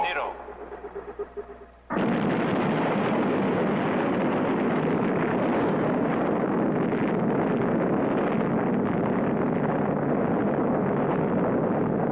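Nuclear explosion set off after a countdown, an abrupt massive blast that cuts in after a brief tone, then sustains as a loud rumbling, roaring wall of noise to the end.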